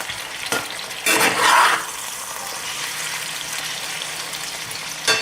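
Potatoes and onions for a Spanish tortilla fry in a pan with a steady broadband sizzle throughout, swelling louder for a moment early on as the pieces are stirred or shifted, then settling into an even crackle.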